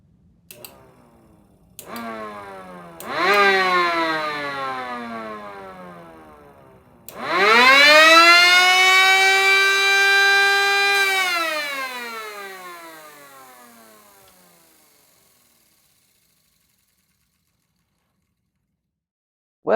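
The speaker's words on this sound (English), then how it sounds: "you end up getting a 6-port dominant tone with a really growly 3-port underneath" A dual-tone MS 490 mechanical siren gives a few short growling whirs, then winds up into a loud dual-toned wail, a 6-port dominant tone over a growly 3-port tone, that holds steady and slowly winds down to silence.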